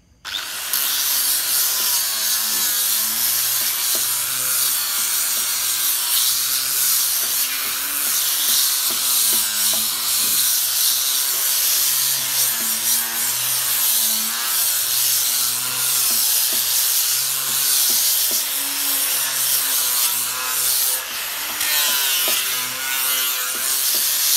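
Carved wood being polished with a power tool: a steady, close abrasive whir and rubbing that continues without pause, with no talking.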